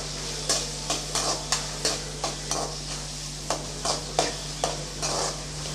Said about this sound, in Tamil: ஒரு பெரிய வெங்காயம் இப்படி பொடியாக கட் பண்ணி வச்சுருக்கேன், அதை சேர்த்துக்கலாம்.